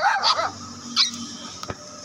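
An Australian Kelpie barks playfully on a morning walk, a few sharp close yips and barks followed by a quieter whimper and a brief knock.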